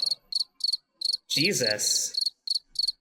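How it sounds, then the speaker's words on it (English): Cricket chirps sound in short regular pulses, loud and close, broken in the middle by a burst of other sound with a voice speaking before the chirping resumes. "Wow, really? Crickets?"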